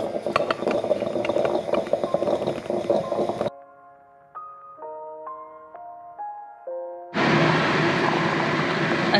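A stovetop coffee maker at home brews and gurgles, coffee building up as it bubbles, with loud broadband bursts and a quieter stretch of soft tonal gurgling between them, close by and with no voices.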